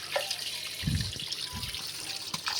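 Fish rinsed under a running kitchen tap, a steady close splashing hiss of water with a few louder sloshes as the fish is handled, no voices.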